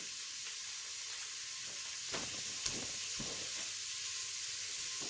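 Onions and sausage sizzle in an Instant Pot, a steady faint frying hiss with a few soft stirring clicks and no voices.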